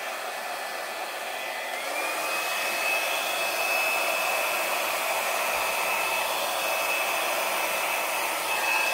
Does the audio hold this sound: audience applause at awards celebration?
no